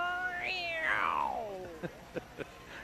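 A person imitates a black cat's meow during a live roller derby broadcast: a single drawn-out voiced wail that rises, then slides long and downward, followed by three short soft knocks.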